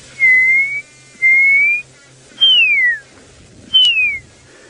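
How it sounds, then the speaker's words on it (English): A pearl-spotted owl calls at sunset on safari, four clear, loud whistled notes, the first two level and rising, the last two sliding downward, spaced about a second apart over quiet background. "A pearl-spotted owl going."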